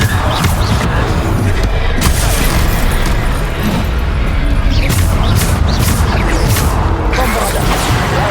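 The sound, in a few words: Descendo spell cast in Hogwarts Legacy video game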